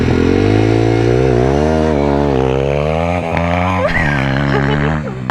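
A small MRF pit bike engine revs loud and close, its pitch climbing steadily, then dipping and surging again before easing off, on grass.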